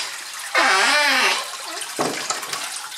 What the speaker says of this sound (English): Oh, the pump just kicked on. Maybe get a shot of the water coming on here.